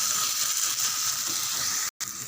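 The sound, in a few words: ground paste sautéing in pan for chicken fry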